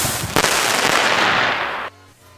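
Loud, dense crackling and popping from fireworks shooting high into the sky during New Year's Eve, a sustained burst of rapid reports that cuts off abruptly, leaving a quiet background.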